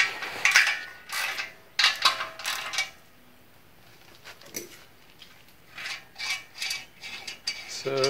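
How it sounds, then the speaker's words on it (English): Fuel tank being removed from a 1966 Ford Bronco during a restoration: scattered metallic clanks, rattles and scraping of tools and sheet metal in short bursts with quiet gaps, close by, with no talking. "So I'm going to get this tank removed."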